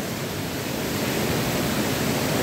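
Small streams pouring into a swollen river, a steady, loud, broadband rush of falling and flowing water that holds constant and close throughout with no breaks.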